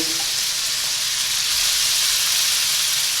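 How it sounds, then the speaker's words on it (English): Shrimp and scallops sear in a hot pan, giving a loud, steady, close sizzle with a strong hiss that holds unbroken for the whole stretch. No voices are heard. "we're gonna cook the scallops and the shrimp on both sides"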